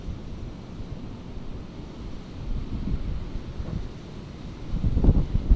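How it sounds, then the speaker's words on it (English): Strong wind buffets the microphone outdoors in an open field during metal detecting, a steady low rumble that swells and gusts louder near the end, with no voices. "It's very windy"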